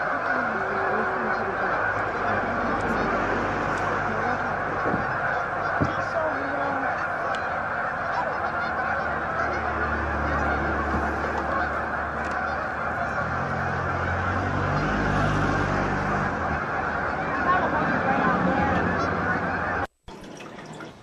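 A large flock of geese honks continuously in the distance, a dense chorus of overlapping calls over steady background noise, with a brief dropout near the end.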